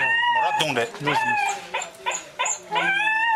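An injured dog hit by a car cries in pain, a string of loud, close, tonal whimpers and wavering yelps in several bursts with brief gaps between them.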